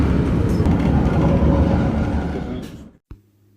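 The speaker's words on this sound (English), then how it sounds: "The train is literally coming to a stop right now" Loud rumbling train noise rolls steadily, then fades and cuts off as the carriage comes to a halt, followed by a brief mechanical thud.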